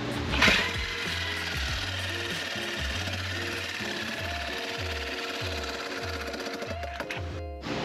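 A power tool grinds steadily through a large exhaust resonator box in a home garage, a continuous harsh rattling buzz with rhythmic low pulsing, close and loud throughout, briefly dipping near the end.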